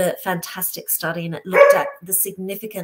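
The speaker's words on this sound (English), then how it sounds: "I hope he'll stop barking." A dog barks a few times in the background while a person keeps talking over it.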